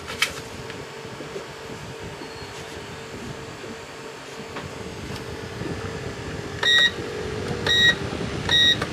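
A BougeRV portable 12-volt fan runs at full blast as a steady whirring hum aboard a boat, with a few sharp electronic beeps near the end.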